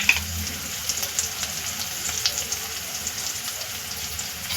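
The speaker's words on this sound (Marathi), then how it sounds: "आता आपले हे मसाला व्यवस्थित तेलामध्ये परतला गेला आहे।" Spice masala with red chilli powder, kasuri methi, coriander and salt frying in oil for a potato curry, giving a steady close sizzle with light crackles and soft stirring scrapes.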